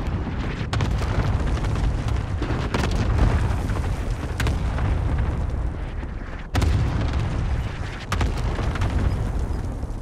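Repeated heavy booms of a cluster strike in Call of Duty: Modern Warfare Warzone Rebirth, loud overlapping blasts rolling continuously, with sharper bursts near 0.7, 6.6 and 8.2 seconds.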